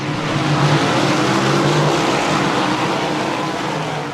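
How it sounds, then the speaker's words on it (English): USAC race cars roaring past at Lawrenceburg Speedway, a dense, loud engine drone from the track that swells and holds steadily with the field going by, no talking. "some sounds of the cars going by down there at Lawrenceburg that I captured"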